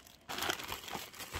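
A plastic vinyl bag is crinkled and handled close up, a short burst of crackling rustle lasting about a second in a quiet room.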